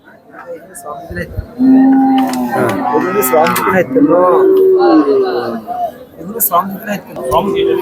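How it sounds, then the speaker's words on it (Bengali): Cattle at the Amin Bazar livestock market in Kabirhat, Noakhali, low drawn-out moos sounding near and loud, repeating over the clip, with people talking and market chatter around them. "এখানে বিশাল গরুর বাজার এখানে দেখা যাচ্ছে"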